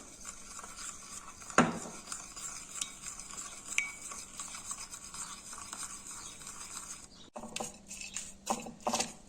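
A spoon stirs a salt-seasoned sauce in a bowl, giving soft, close scraping and clinking with occasional louder taps, fairly quiet and continuous, with no voices heard.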